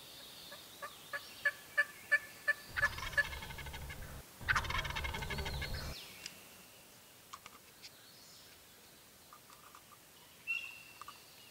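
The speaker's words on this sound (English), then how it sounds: "This is the first day turkeys have really gobbled good." Distant wild turkeys gobble in repeated bursts, with a short series of sharp clucks before a louder, rattling gobble breaks out.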